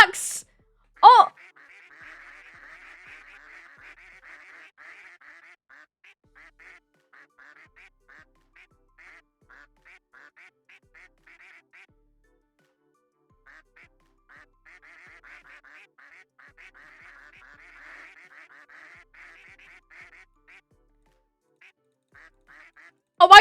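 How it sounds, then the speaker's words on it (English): Ducks quack in a video game at a cosplay convention stream: faint, rapid quacking runs on for long stretches with short gaps, and a few sharp, louder bursts mark the start and end. "I'm gonna get listen to duck quacks the entire time."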